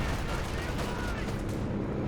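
An artillery barrage in the World War II strategy game Company of Heroes 2 rolls on as a dense, continuous wash of overlapping blasts and gunfire, loud and unbroken for its full length.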